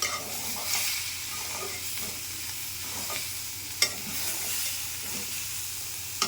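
Mixed vegetables and soybean chunks fry in a pan, a steady broad sizzle with soft scraping stir sounds and occasional sharper clinks, close and continuous with no talking.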